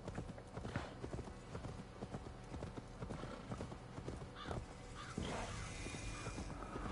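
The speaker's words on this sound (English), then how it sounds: "I'm a bunny riding a horse." Steady clip-clop of horse hooves at a trotting rhythm in Assassin's Creed, close and clear, with a brief whinny partway through and low background rumble.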